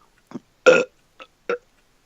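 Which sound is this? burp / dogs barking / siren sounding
burp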